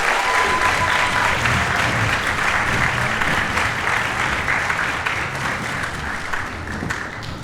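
Sustained applause from an audience at a school winter concert in New Hyde Park, a dense, even wash of clapping that stays loud throughout and eases only slightly toward the end.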